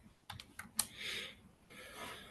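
Quiet computer keyboard typing, a few soft, close key clicks in a brief irregular burst followed by faint hiss.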